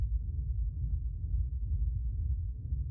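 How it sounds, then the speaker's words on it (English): Dark techno rumble passed through an auto filter that strips away the high end, leaving a low, muffled, continuous throbbing drone at moderate level with no voices. "the next thing we have here is this auto filter, which is cutting out the high end"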